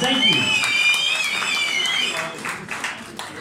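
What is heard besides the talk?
audience applause at a movie premiere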